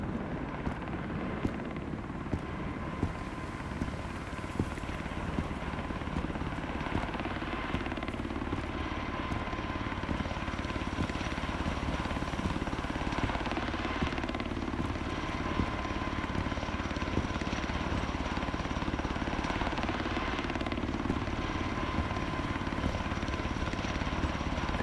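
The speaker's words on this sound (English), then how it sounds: "I hear the helicopter coming." A helicopter in the video game Road to Vostok drones steadily overhead, a constant, fairly faint rotor and engine hum that persists throughout with occasional small clicks.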